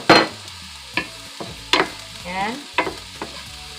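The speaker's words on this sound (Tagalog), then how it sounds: "Lutuin lang natin ng konti ang ating garlic." Garlic fries in a pan for ramen, with a sizzle beneath repeated sharp clacks and scrapes of a spatula and one brief spoken word.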